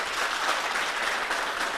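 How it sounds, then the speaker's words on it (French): Steady, dense applause from a youth audience at a town hall event in Koumassi, an even wash of clapping with no speech over it. "Ça peut s'applaudir, amis jeunes."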